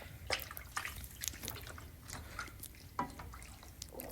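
Water poured into a pot of pre-cooked stockfish for ogbono soup, with soft splashes and drips at irregular intervals over quiet kitchen background.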